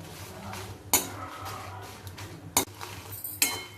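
A metal spoon stirs and clinks against a pan as about 40 dried red chillies are roasted for garlic idli podi, giving three sharp close clinks over a soft scraping background with no speech.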